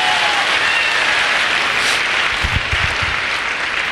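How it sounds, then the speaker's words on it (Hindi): Audience applause at a business seminar, a dense, loud, continuous wash of clapping from a large crowd throughout. "दोस्तों इस बिजनेस के लिए जोरदार ताली बजवाना चाहता हूं"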